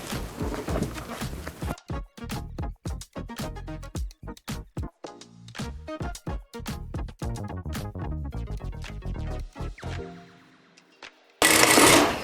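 A sewing machine stitching a fabric skirt waistband seam, rapid rhythmic mechanical thumping in bursts that slows and stops, then a sudden loud rush of noise at the end.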